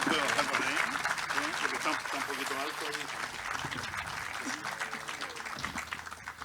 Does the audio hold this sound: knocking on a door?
no